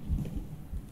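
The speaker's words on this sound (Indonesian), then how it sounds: "Apa sih kok ada petir-petir?" A low, rumbling roll of thunder in a Minecraft survival game, brief and fairly faint, with a soft rain-like wash above it and no talking.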